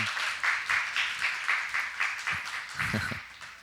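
A poetry recital audience breaks into applause, with rhythmic bursts of clapping that pulse roughly every half second, fairly close and loud, before thinning out toward the end.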